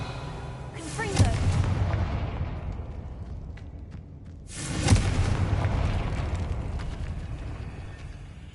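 Confringo blasting spell fired in a Harry Potter video game, two heavy booming explosions several seconds apart, each a sudden loud burst that rumbles and decays slowly, with no voices over them.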